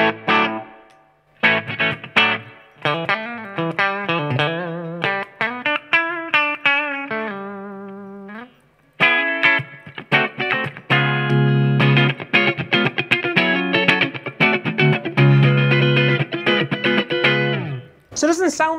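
Epiphone Prophecy Extura electric guitar on its split single-coil pickup, played through effects with a bright, spanky tone: a run of picked notes, a brief pause, then busier strummed chords and riffs to the end.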